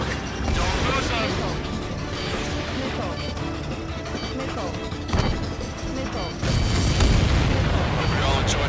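Continuous booms and crashing explosions from aerial combat in the Ace Combat 7 video game, dense and rumbling throughout with a louder burst near the end, under radio-style voices.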